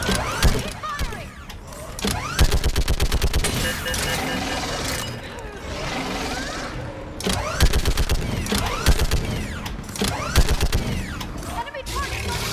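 Rapid automatic gunfire in Mass Effect Legendary Edition on Insanity difficulty, long rattling bursts with brief pauses, loud and close, with combat voices over the shooting.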